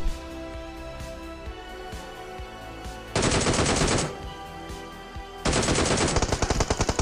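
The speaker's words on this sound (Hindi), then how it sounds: "फिर से एक शॉटगन किल।" Shotgun blasts in the mobile battle-royale game PUBG Mobile, two loud sustained bursts of rapid gunfire cutting in over quieter game background noise.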